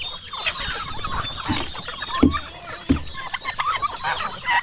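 Several turkeys gobble and cluck in bursts, with other poultry, including geese, chattering around them at close range.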